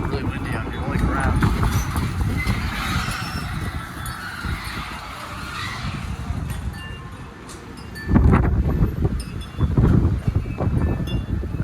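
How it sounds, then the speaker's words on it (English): Strong wind gusting outdoors beside an old station wagon as a storm comes in, a loud continuous roar buffeting the microphone and swelling sharply near the end. "It's starting to get really windy out here."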